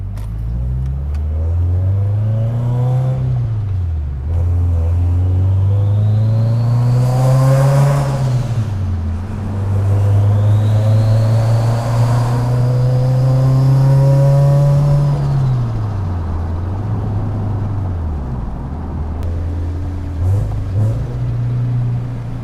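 A turbocharged Scion FR-S pulls hard down a street, engine note climbing through the revs, dropping briefly at gear shifts, then winding up again loud and close from inside the car.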